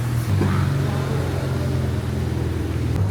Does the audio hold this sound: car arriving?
yes